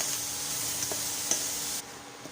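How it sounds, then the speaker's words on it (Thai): Chive dumpling filling is stir-fried in a pan over the lowest heat, giving an even, gentle sizzle broken by a couple of light scrapes of the spatula before it quiets near the end. "ผัดไฟอ่อนสุดเลยนะคะ"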